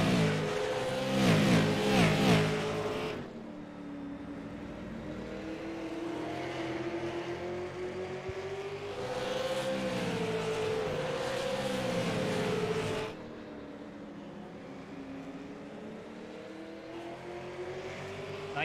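Race cars at Stafford roar around the track with engines revving hard through shifts, loud bursts of acceleration alternating with steadier passing drones, one car after another and no voices.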